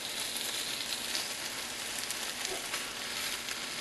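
Large strips of bacon frying in a pan for bacon and egg wraps, giving a steady, moderately quiet sizzle with a constant crackle throughout and no talking.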